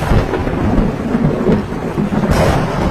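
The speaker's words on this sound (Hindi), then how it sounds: "बाहर मौसम खराब है, बिजली कड़क रही है" Heavy rain pours down steadily while deep thunder rumbles and rolls through the whole clip, loud and close.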